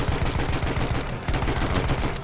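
Gunfire from the video game Battlefield 1 fills the scene with dense, continuous machine-gun bursts and a loud, crackling, unbroken barrage throughout.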